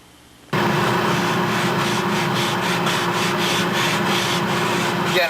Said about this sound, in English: I'll just block sand that in with the block sander and the machine on.